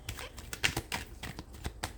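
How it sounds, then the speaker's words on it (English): Tarot cards shuffled by hand for a reading, a close series of sharp irregular taps and flicks, like cards slapping together, with no voice over them. "so I'm just going to shuffle it again"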